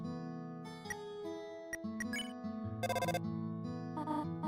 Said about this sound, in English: the phone is going